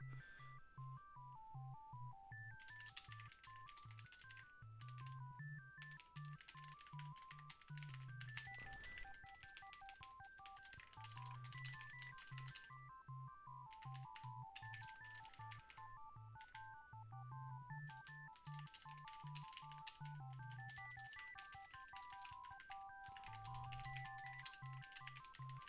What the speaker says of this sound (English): I'm glad you like the sound of it. It's really not an expensive keyboard or anything.